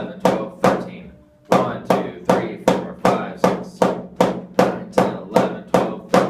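A snare drum sounds a thirteen-stroke roll rudiment, rendered as a loud, close, evenly spaced series of sharp strokes, one separate hit after a brief pause and then a steady run of regular beats, with no talk.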